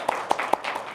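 A church congregation at a Sunday service claps in encouragement for an elder with a cracked bone, producing a short stretch of steady, fairly soft applause with a few sharper individual claps standing out.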